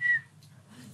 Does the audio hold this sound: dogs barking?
no